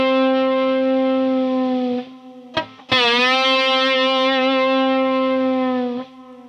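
A Fender electric guitar plays a sustained distorted overdriven note with rich harmonics. A noise gate chokes the sound abruptly to near silence, a new note is struck and rings, then the gate cuts off the hiss again at the end.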